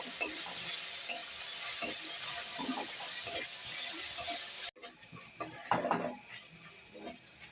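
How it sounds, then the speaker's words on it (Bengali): Garlic and ginger sizzle in hot oil under a steady hiss while a utensil scrapes and stirs the pan in irregular strokes, close up with no talking. "এটা একটু নাড়ি চাড়িয়ে নেবো।"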